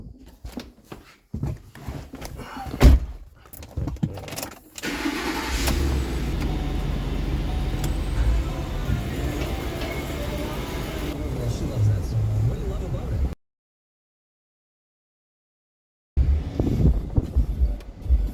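A truck drives around a shop, its engine rumbling steadily for several seconds after some clunks, then cutting out briefly before resuming, with someone talking over parts of it.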